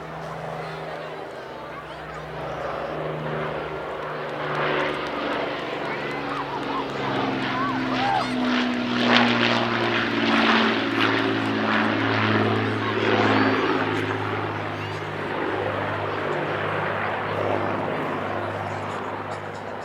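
An Avro Lancaster bomber passes overhead at an air festival, its propeller engines droning in a deep, steady multi-engine roar that swells to a peak midway and slowly fades.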